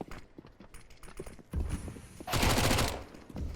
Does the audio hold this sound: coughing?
no